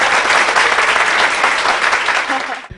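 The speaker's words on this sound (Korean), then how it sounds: "박수 한번 주세요." Church congregation applauding during a Korean Christian broadcast service, a loud, dense burst of clapping that holds steady for nearly three seconds before cutting off abruptly.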